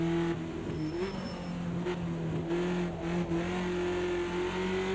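A BMW 2002 Turbo races at Bathurst in Project Cars 2, its engine droning loud and steady with brief dips and pitch steps between gears, and no voices.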